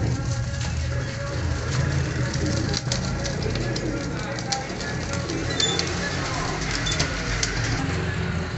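A flock of twenty Johnsiry pigeons coos in Faisalabad, low murmuring calls running steadily throughout over a busy background with occasional faint clicks and distant traffic.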